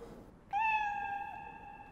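A stray cat gives a single drawn-out meow that starts sharply and holds a steady tone. It sounds close and clear above a quiet background.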